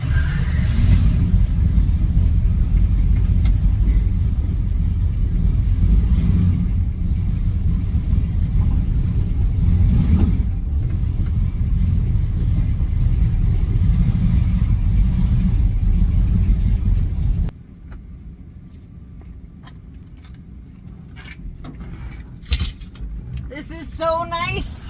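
A custom 1968 Chevy C10 pickup rumbles loudly and steadily while driving for most of the stretch, then drops to a quieter cabin hush broken by a few sharp clicks and rattles near the end.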